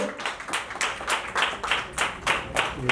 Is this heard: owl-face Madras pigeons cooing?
no